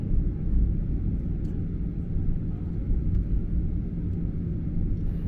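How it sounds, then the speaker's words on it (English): Steady, loud broadband engine roar fills the cabin of a Regional Express Boeing 737-800 in cruise on a Sydney to Brisbane flight, heard from a rear seat, constant and unbroken throughout. "we are on one of Regional Express's 737-800 aircraft, one of 10 in their fleet"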